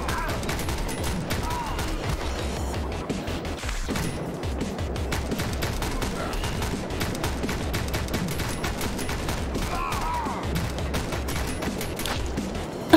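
Dense, continuous gunfire rattles through a John Wick commute simulator video game, with rapid overlapping shots forming a steady loud fusillade for the whole stretch and a faint voice now and then underneath.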